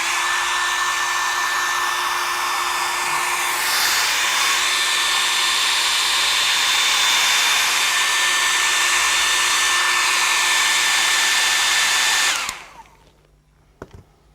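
A hair dryer blows steadily and loudly for about twelve seconds, drying the freshly painted sky on a canvas, then cuts off abruptly, leaving near silence with a couple of faint knocks.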